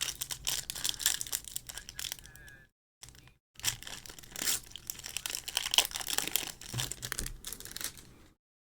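Plastic packaging holding Pokémon promo cards is crinkled and torn open by hand, a close, continuous crackling and ripping that stops briefly partway through before carrying on.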